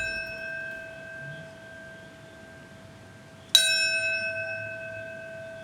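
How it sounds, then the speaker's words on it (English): A single solemn bell toll rings out at the September 11 memorial in New York, striking once sharply midway through a quiet hush, with a long, slowly fading ring and sustained tones carrying beneath. "a solemn bell toll in a moment of silence at 9:03 a.m."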